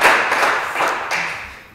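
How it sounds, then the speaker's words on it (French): Brief audience applause at a televised quiz contest final in Lubumbashi, a short burst of claps that quickly fades out. "merci beaucoup de l'applaudir"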